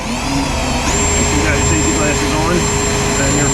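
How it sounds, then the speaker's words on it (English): A steady high-pitched whine of a power drill drilling out spot welds, running continuously at close range, its pitch shifting slightly, over a loud mechanical drone. "You can vary your speed on your drill a little bit, seems to save them"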